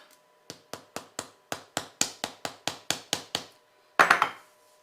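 A steady series of about a dozen sharp hammer blows driving a dowel through a cake into a cardboard base, evenly spaced and close, then a brief pause and a rapid cluster of three or four harder strikes.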